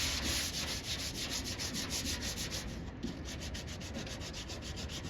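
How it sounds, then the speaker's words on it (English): Epoxy primer on a Chevy dually truck bed is scuffed by hand with 180 grit sandpaper, making steady, rhythmic back-and-forth rasping strokes, close and even, with no voices. "I'm going to take some 180 grit sandpaper just by hand. So all I want to do is scuff up really good that epoxy primer"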